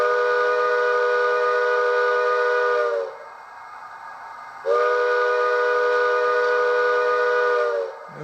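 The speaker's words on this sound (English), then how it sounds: "F2 is whistle." Bachmann HO-scale 2-8-0 steam locomotive model sounding its whistle: two long, steady chime blasts of about three seconds each, separated by a short pause, loud and close with no voices.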